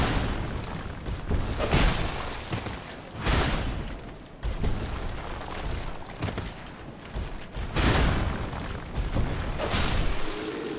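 Explosion in the video game Dark Souls 2, heard as several broad, rumbling booms swelling and fading over a dense, loud layer of in-game noise with creaking, mechanical textures.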